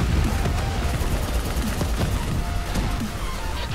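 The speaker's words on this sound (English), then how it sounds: "All this fire and explosions reminds me of whenever I talk about." Dense video game gunfire from Black Ops 3 campaign combat, with turrets and robots, rattles continuously with scattered explosions and crashes, loud and steady throughout, faint voices occasionally beneath.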